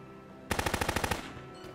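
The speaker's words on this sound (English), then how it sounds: "Yeah, those guns are really deadly." Rapid burst of automatic gunfire in the video game Silent Storm, about ten sharp evenly spaced shots in under a second, loud and close, then a short fading tail with no talk.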